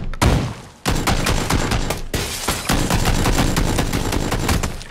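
Gunfire in PUBG Battlegrounds, with pump shotgun blasts amid a dense, continuous volley of shots during a close-range fight, loud and busy for the whole stretch with brief breaks.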